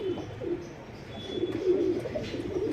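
A pair of tamral pigeons, a white male and a kasni female, coo softly with low, warbling calls repeating close by over faint background noise.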